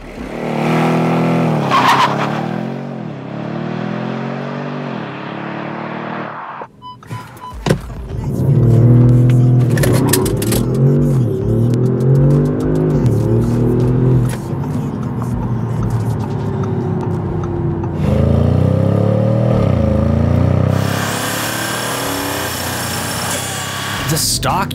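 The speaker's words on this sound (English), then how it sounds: "let's set a couple 0 to 60 benchmarks with that stock TCU tune" Audi S6 on a stock transmission tune accelerating hard from a standstill to 60 mph on a cold day, engine roaring loud and close with tire noise, a break in the sound partway through and a voice talking over parts of it.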